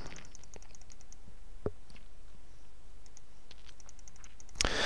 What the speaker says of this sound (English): Clicking on your sprite will then change the size